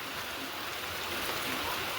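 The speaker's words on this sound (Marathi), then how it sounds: "एकदम मोठा पाऊस चालू झाला मित्रांनो तर तुम्हाला दाखवतो पाऊस कसा चालू झाला" Steady, dense heavy rain pouring down close by onto plants including roses, a continuous rushing hiss with no gaps.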